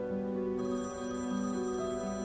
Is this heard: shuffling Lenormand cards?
no